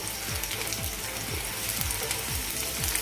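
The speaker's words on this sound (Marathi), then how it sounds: "लसूण हलकासा फ्राय झाला की यामध्ये आपण चिंच जिरं आणि मीठ घालणार आहोत" Garlic fries in oil for a chutney with a steady, dense crackling sizzle, close and fairly loud, alongside a faint repeating low ticking, with no speech.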